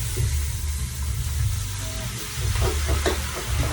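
Shrimp sautéing in melted butter for garlic butter shrimp, a steady bright sizzle with a few stirring scrapes and crackles close up.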